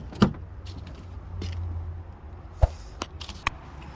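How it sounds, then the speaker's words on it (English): A passenger door on an Infiniti FX35 is opened during fender and headlight work: a sharp latch click, then a low hum and several quick clunks and taps, close and fairly quiet, with no talking. "Let's open the door, passenger door."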